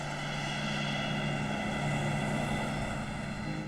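A steady propeller-style airplane engine drones loud and close, a constant unbroken hum with no voices.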